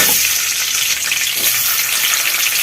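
Sliced capsicum and onion sizzle in hot oil in a wok, a loud, continuous crackling fry up close with no voices.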